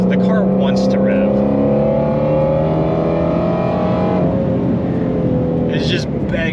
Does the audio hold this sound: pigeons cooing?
no